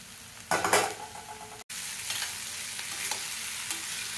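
Egg semiya is stirred in a pan. A constant sizzle carries a louder scraping stir near the start, then a very brief gap before the steady frying hiss resumes, with a few light scrapes later.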